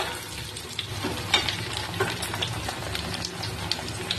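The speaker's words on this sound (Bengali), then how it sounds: "এবার আলু আর পেঁয়াজটা একটু ভাজা ভাজা করে নেবো" Potatoes and onions frying in a pan for a Bengali fish curry, with a steady, dense sizzle and crackle throughout and occasional small pops and stirring scrapes, close and fairly loud, with no talking.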